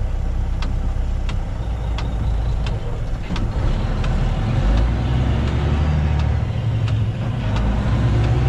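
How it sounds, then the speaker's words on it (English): Kenworth truck coming down a hill on a road, a heavy low engine rumble that swells as it nears, with steady traffic noise and faint repeated beeps in the background. "Kenworth coming down the hill right there."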